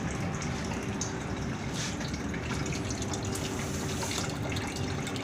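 Water gushing steadily from a hose run off a tank, a dense, constant near rush of flow with no talk over it.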